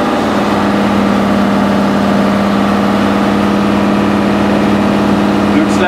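A diesel engine running on waste vegetable oil is held at steady revs, a loud, even, continuous drone close by without letup.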